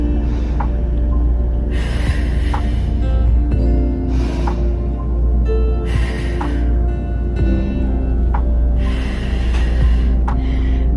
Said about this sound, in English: We're gonna take 3 breaths wherever you're at.